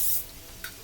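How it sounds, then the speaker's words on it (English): Olive oil cooking spray hisses onto a pan in one short, close burst that cuts off quickly, followed by a faint second puff. "you can spray your pan, or you can spray a little bit of this"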